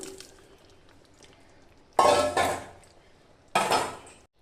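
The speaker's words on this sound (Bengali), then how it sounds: "এবার আমি এর মধ্যে দিয়ে দিচ্ছি আগের থেকে ভেজে রাখা আলু" Pre-fried potatoes dropped into chicken cooking in a pot for Dhaka Bikrampur-style chicken, giving two loud clattering thumps of pieces and utensil against the pot after a quiet start.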